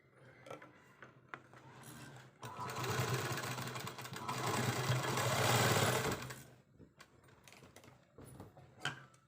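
Domestic sewing machine running a fast, steady stitch for several seconds while topstitching a baby frock, with short handling clicks and pauses before and after the loud burst.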